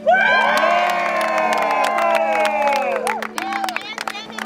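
A crowd at a ward pioneer trek gathering cheers loudly for Uncle Alma, with shouts and whoops over a steady hum, the voices fading into scattered calls near the end.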